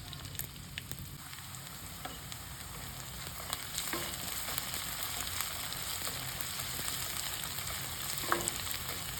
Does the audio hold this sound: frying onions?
yes